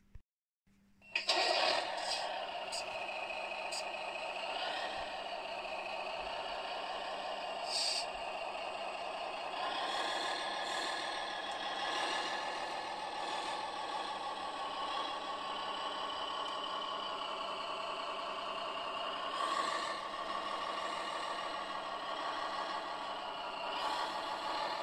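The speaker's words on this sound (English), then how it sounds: "I'm going to bring some of my machines in here now and put them on the trailer" A radio-controlled Volvo L120 model loader drives onto a model equipment trailer, its electric motor and drive whining steadily and loudly up close after a brief quiet start, with small shifts in pitch as it moves.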